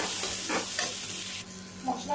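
Spice masala with cumin powder, salt and torn green chillies is sautéed in a pan for a Bengali-style fasha fish curry, with close, busy sizzling and stirring scrapes.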